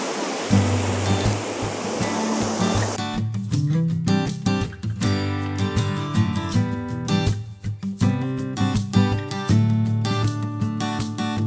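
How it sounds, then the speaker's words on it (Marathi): Frothy sea waves break on a crowded beach at Ganpatipule where water sports are underway, a steady broadband surf rush that is clear for the first few seconds before loud music covers it. "हे बघा, एकदम फेसाळ लाटा आहेत."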